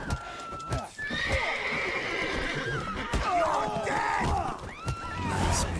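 A horse in The Witcher 3 whinnies loudly in a long, wavering neigh over clopping hooves and scuffling, followed by a second shorter whinny near the end.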